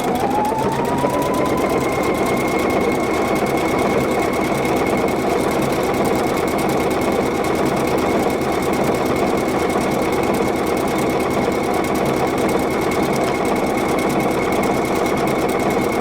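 A PFAFF creative icon sewing machine stitching in reverse: a fast, steady, mechanical needle rattle with a whirring motor tone that rises at the start, then runs continuously and evenly throughout, close and loud.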